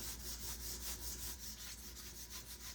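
Quiet rhythmic rubbing of a fine detail sanding block on wood, back-and-forth strokes repeating evenly at close range.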